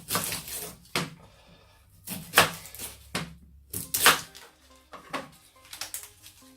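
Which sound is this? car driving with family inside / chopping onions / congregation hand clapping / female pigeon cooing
chopping onions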